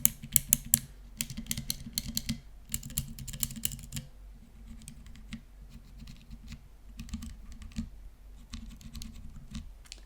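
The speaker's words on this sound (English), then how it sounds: "So as you can hear, these 3 are clicky, these 2 are linear, and these 2 are tactile." Clicky, linear and tactile switches on a Dygma Raise keyboard, Cherry MX and Kailh types, typed in bursts: rapid sharp clacks early, then lighter, softer patter in separate runs, close and with no talk.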